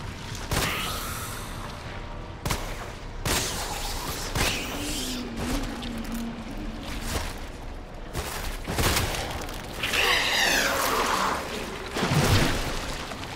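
Gunshots in the video game Resident Evil 2, a series of sharp loud reports scattered through ongoing game ambience, with creature-like cries and rumbling between the shots.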